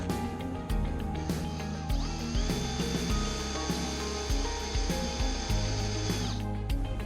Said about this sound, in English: So if I drill through this, I'm not going to grind away the threads that are in here